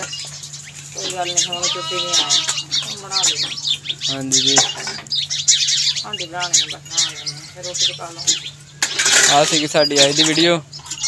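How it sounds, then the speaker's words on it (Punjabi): Dishes being washed at home, with clinks of pots, pans and cutlery scattered through the clip under near, steady conversation and a constant background hum. "ਅੰਮੀ ਜੀ ਹੁਣ ਧੋਣ ਲੱਗੇ ਨੇ ਬਰਤਨ"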